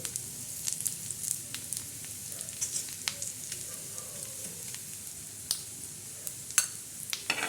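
Grated coconut roasting in a pan, a steady soft sizzle and crackle with scattered scraping stirs and sharp ticks, close and fairly quiet, with no voices.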